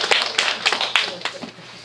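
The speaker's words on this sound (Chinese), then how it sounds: "让我的掌声谢谢我们的李教授" An audience at a post-screening talk during an animal-welfare film festival gives a short burst of clapping, a quick run of close, sharp claps that thins out within two seconds.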